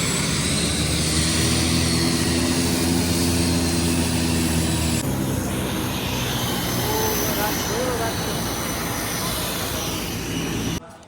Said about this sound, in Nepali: अर्को प्लेन आयो है